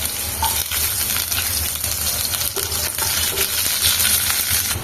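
Cumin and mustard seeds crackling and popping in hot oil, a steady dense sizzle with tiny sharp pops throughout, close and loud with no voices.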